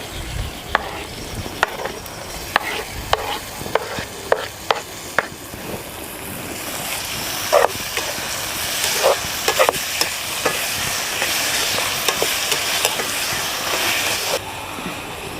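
Chopped onions and tomatoes sauté in a hot pan for an egg kurma, a steady sizzle broken by repeated scraping strokes of a spoon stirring, close and clear with no talking.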